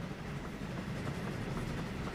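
A steady, low rumble of a train running continuously up a grade, with a faint rhythmic clatter throughout, in the video game Transport Fever 2.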